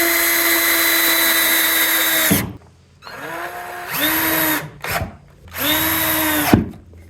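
A cordless drill drives deck screws into a wooden goat milk stand, whining in three bursts with rising and falling motor pitch, separated by short pauses, loud and close.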